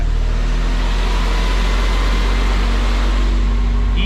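A Triumph GT6 engine running just after starting, a steady low rumble with a continuous mechanical hum that holds evenly throughout, close by, with no voices.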